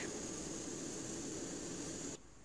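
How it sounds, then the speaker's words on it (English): A steady, broadband whine and roar of an Airbus A330 engine spooling up in a flight simulator game, constant and fairly loud, then cutting abruptly to a quieter hum near the end. "And start up engine number 2."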